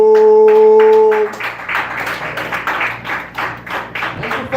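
A comedy club audience applauds as a comedian is introduced, with loose, moderately loud clapping that follows a fading music sting, and no talk over it.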